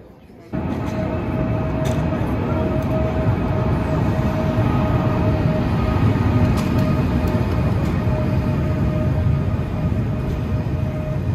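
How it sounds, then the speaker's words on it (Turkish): A metro train rumbles steadily into a station in Tashkent, Uzbekistan, its loud, continuous rolling noise and squeal filling the space after a quiet start. "Tren geliyor."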